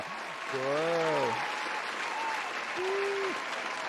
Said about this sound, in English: Let's get some claps and some woos in the chat for our featured presenters.